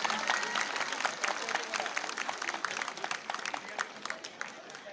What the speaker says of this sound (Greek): Και εδώ θέλει ένα χειροκρότημα.